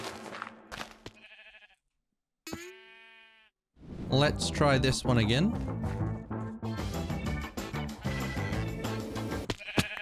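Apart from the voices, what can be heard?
sheep bleating in Minecraft video game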